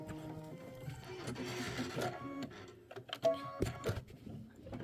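Sewing machine stitching a Kimberbell quilt block with dip, flamingo and umbrella designs, a steady mechanical whirring with brief pauses at a moderate distance.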